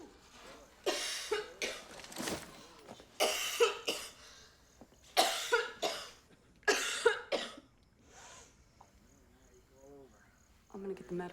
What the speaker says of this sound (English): You just coughed up blood.